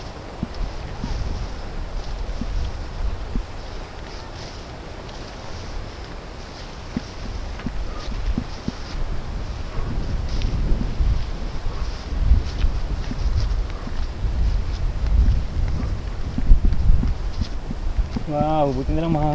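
Gusty wind rushes and buffets the microphone steadily throughout, with some outdoor movement and a brief voice near the end.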